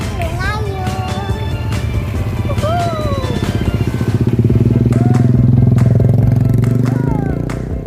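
A motorcycle towing a roller skater along a road, its engine a loud close continuous drone rising and swelling midway, with people talking and calling out over it.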